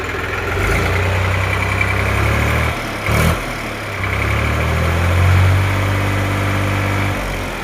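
A tractor's diesel engine idles close by in a steady, low, throbbing hum that dips briefly partway through and then settles back to an even idle.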